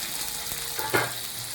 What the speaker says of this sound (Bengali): এই পেঁয়াজটাকে আমি ব্রাউন করে ভেজে নেব।